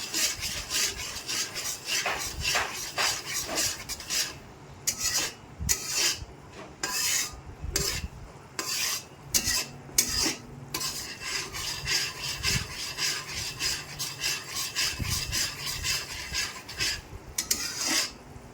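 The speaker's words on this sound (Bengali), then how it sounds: "দিয়ে নিয়ে ভালো করে কষিয়ে নিতে হবে" Spice paste with water sautéed in a pan for a vegetarian doi potol dish, heard as rhythmic rasping scrapes of a spoon against the pan bottom, repeated steadily and close, with faint sizzling underneath.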